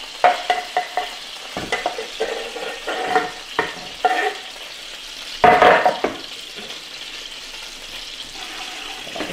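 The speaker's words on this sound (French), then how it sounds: "On fait revenir le piment et l'ail" Chili and garlic fry in sardine oil in a hot pan, with scattered sizzling bursts and scraping stirs close by, quieter stretches between them, and no talk.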